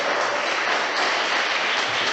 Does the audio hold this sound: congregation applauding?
yes